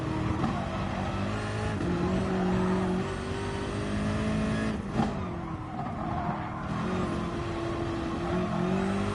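Race car engine in a racing game lapping the Nordschleife, a loud continuous roar that rises and falls through gear changes, with a brief lift-off and dip in revs midway before pulling hard again.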